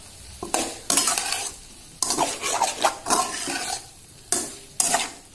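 Chicken fries in oil in a pan for a black pepper Chinese chicken dish, with soft sizzling under repeated, close scraping stirs of a utensil against the pan in irregular strokes.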